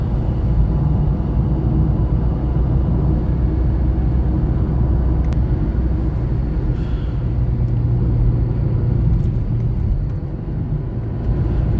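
A vehicle cruising along the NH66 highway near Janavali, Kankavli, giving a continuous low rumble of engine and road noise from inside, steady for the whole stretch with no talking.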